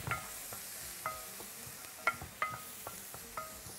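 Butter and onion frying in a home pan for a Tunisian omelette, a soft close sizzle with occasional light scrapes and taps of a utensil stirring.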